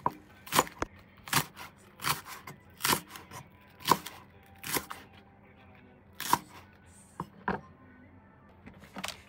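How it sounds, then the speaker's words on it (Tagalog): A knife slicing a leek diagonally on a cutting board: a steady series of crisp, sharp chops about every half second to second, close and clear, with no talking. "slice this leek diagonally, like this"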